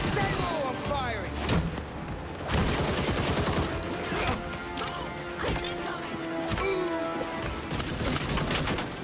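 Gunfire in the video game Gotham Knights: loud, dense bursts of shots and crashing impacts over a constant din of music and effects, with a voice calling out amid the action.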